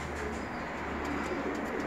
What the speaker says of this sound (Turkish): Bunlar aslanbaş kuşları.